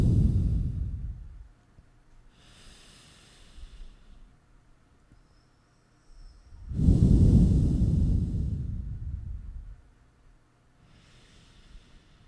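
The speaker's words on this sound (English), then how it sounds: "Exhale completely." Deep, slow yogic breaths during a city yoga class: two long, loud exhales through the nose and mouth, one at the start and a bigger one midway, with softer inhales between, close and alone.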